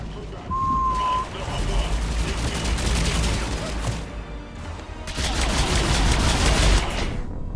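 Rapid gunfire from the video game Mass Effect 3: dense, overlapping bursts of shots and impacts fill the scene almost continuously, loud and busy, with a brief lull midway before the shooting surges again.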